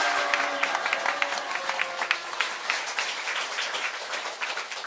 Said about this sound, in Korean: 감사의 박수 올려주십시오.